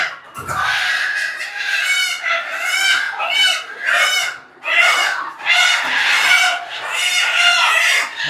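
Loud, agitated clucking and squawking from a group of roosters being caught on a rooftop farm, with overlapping harsh calls and a brief thump near the start.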